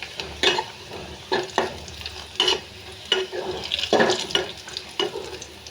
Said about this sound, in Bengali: এখন আমার পেঁয়াজটা এখন ভাজা প্রায় কাছাকাছি।